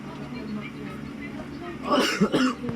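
A person gives a couple of short, rough coughs near the end, over a steady background hum and light chatter in a room.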